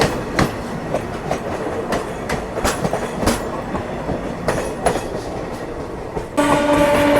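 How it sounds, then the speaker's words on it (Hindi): A passenger train rolls past at Tilak Bridge with loud, uneven clattering of wheels over the rail joints. Near the end a sustained horn blast sounds close by. "पैसेंजर ट्रेन अपनी ट्रेन को यहाँ पे पीछे छोड़ते हुए आगे बढ़ रही है"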